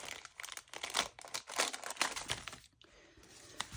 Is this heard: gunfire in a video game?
no